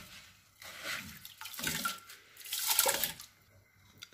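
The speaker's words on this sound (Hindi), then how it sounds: "अब डालने जा रहा हूँ चावल।" Rice poured into a pot of milk for kheer over a low flame, giving a few soft splashing, sloshing pours close by with quiet pauses and no speech.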